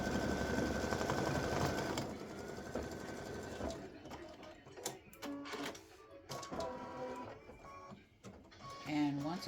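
An embroidery machine stitches a Thanksgiving turkey tic tac toe game piece, its rapid needle chatter loud and steady, then breaking into shorter bursts and pauses as it moves between sections.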